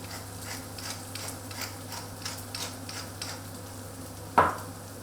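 Eggs for a quiche Lorraine are whisked in a bowl with quick, regular light clicks over a faint background hum, finished by one sharp knock against the rim.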